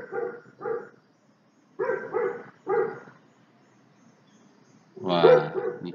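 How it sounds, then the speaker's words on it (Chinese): Dog barking in a sound-guessing sequence, with two short barks, a pause, then three more in a burst, and a louder cry near the end; no clear cicada buzz stands out. "这个是狗叫跟蝉鸣的声音。"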